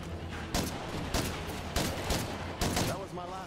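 Gunfire in State of Decay 2, a handful of sharp close shots spaced about a second apart over a busy ambient background, ending with a brief burst of speech.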